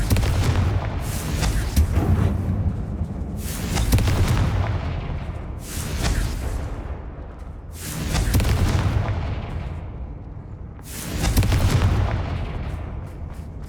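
Fire spell explosions from Confringo cast in the Hogwarts Legacy video game, five loud booming blasts spaced a few seconds apart, each with a broad crackling burst that rolls and fades over a steady low rumble.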